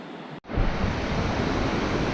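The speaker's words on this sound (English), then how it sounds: "Impressive waterfall." A large waterfall in the Dovrefjell woods of Norway, a loud, steady, broadband roar of falling water that starts abruptly after a brief cut and continues without pause.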